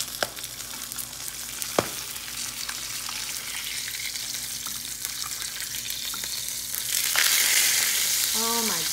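Salmon frying skin-side down in a pan, a dense, steady close sizzle with occasional sharp spits, rising louder toward the end, no talking.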